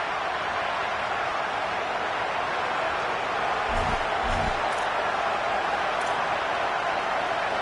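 Stadium crowd at a Ducks vs Michigan college football game, a steady dense roar of thousands of fans filling the air, loud and continuous with a couple of low thumps midway.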